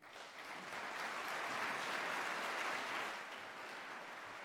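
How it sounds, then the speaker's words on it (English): An audience at a UCP political debate in Calgary breaks into sustained applause, a dense wash of clapping that swells and then tapers slightly, with no speech over it. "applause does take away from your contestants' time to speak"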